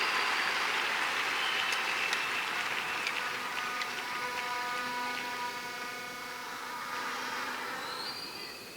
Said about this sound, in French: Donnons une autre acclamation à Jésus.